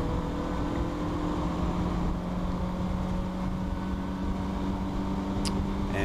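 A Mazda MX5 race car at Road Atlanta accelerating out of turn 7, a steady droning engine tone heard from inside the car, fairly constant and moderately loud, with no voices.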